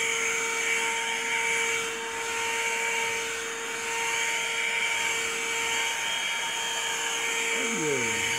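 An Amazon vacuum cleaner with a brush attachment cleans a mat, giving a steady, loud motor whine with a constant hum throughout, and a brief squeal-like sweep near the end.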